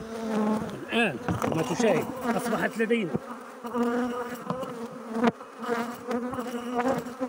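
A dense, loud buzz of honeybees crawling on a brood frame during a hive split fills the clip. Someone speaks over the continuous droning hum.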